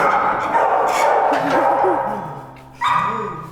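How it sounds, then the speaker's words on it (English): Several small puppies bark and yip in quick, high bursts during a road trip, close and fairly loud, with a voice briefly audible underneath. "Puppy, puppy, puppies!"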